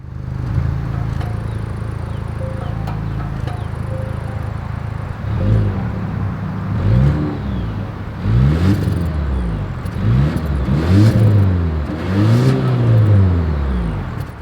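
A 2024 Volvo XC60 SUV with dual exhaust idles with a steady low rumble, then is revved repeatedly, each blip rising and falling in a series of loud, close engine surges with no talk.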